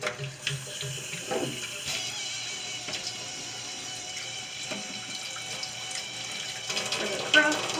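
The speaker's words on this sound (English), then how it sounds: "I'm just rinsing my beans really good in the water." Steady running water pours from a kitchen faucet while dried beans are rinsed in the stream, with soft clinks and splashes throughout, close and continuous.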